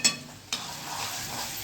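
Vegetables fry in hot oil while a spoon stirs them for a Gujarati dhokri shaak. A sharp clatter of the spoon comes first, then a soft, continuous sizzle and scraping stir, close and fairly quiet.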